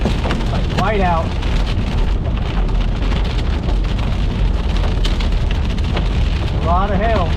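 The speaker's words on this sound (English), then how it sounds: "A lot of hail." Hail pours down during a storm chase whiteout, a dense continuous hiss and patter of pelting ice, loud and close, with a couple of brief tonal chirps over the roar.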